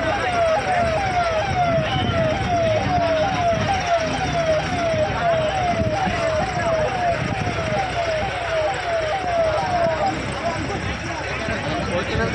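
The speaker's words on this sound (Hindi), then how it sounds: "अरे एम्बुलेंस आ गई रे" An ambulance siren wails in a rapid repeating pattern on a road in Bhopal, India, under steady road and engine noise while people talk nearby, then it fades out.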